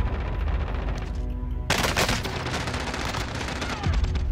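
Rapid automatic gunfire bursts in the Call of Duty Warzone video game, loud and close, starting abruptly partway through and continuing as dense crackling volleys with a heavy boom near the end.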